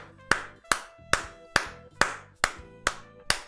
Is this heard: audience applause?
yes